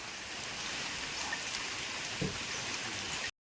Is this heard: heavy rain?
yes